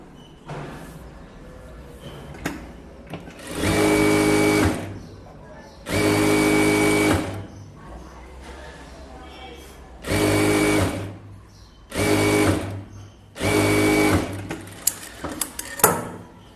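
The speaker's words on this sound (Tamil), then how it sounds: "அதை அப்படியே மடித்து தைச்சிக்கோங்க" A sewing machine stitches a folded strip of blouse fabric in five loud, close bursts of rapid mechanical whirring, with quieter gaps between runs where a voice talks softly.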